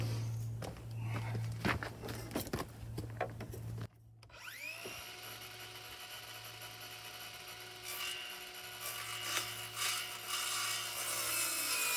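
Wood being trimmed for a front basket on a Honda Rancher ATV: close scraping and rasping strokes in uneven bursts with knocks and shuffling, then a sharp ringing tone and resonant hum after a brief cut-off.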